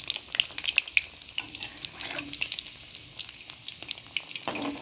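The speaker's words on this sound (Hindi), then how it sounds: "ये जी हो रहे हैं कटलेट्स फ्राई" Egg and potato cutlets frying in oil, a dense crackling sizzle with bright popping spatters throughout, close and fairly loud, with no speech.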